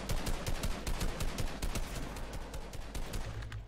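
Rapid gunfire in the video game Fortnite, loud, dense bursts of repeated shots crackling nearly continuously, heard alone without talk.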